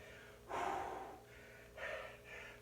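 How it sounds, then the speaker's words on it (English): After a resistance band cardio-strength workout, a person exhales hard in three heavy gasping breaths, close and faint, the first the longest, with no talking. "Slow that breathing down."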